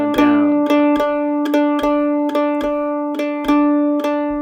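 A mandolin strums an even run of all-downstroke picks for an Irish jig pattern, each stroke a bright ringing chord attack at a steady pulse, close and solo with no talking.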